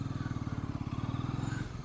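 A Bajaj Pulsar NS 400 motorcycle runs steadily up close, its engine giving a fast, even throb with a low, pulsing rumble throughout.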